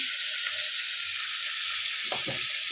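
Fish sizzling and spluttering in hot mustard oil in a pan, a steady close hiss with a few sharper crackling bursts near the end.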